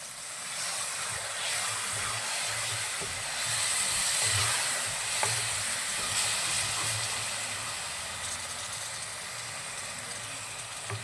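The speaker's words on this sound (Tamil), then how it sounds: "பாருங்கள் நல்லா கொதிக்குது" A steady, bubbling hiss of green pea gravy boiling vigorously in a pan, close and continuous, with faint clinks and no voices.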